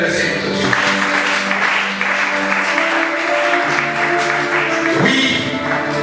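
A church congregation applauds and cheers in praise of the Lord, a steady dense wash of clapping with voices and sustained musical tones running throughout.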